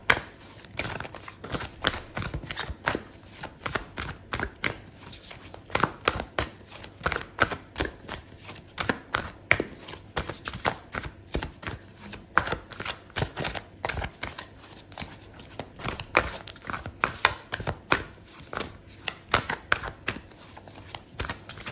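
Oracle cards for a tarot reading are shuffled close by, giving a long run of irregular crisp riffling slaps and flutters with no voice.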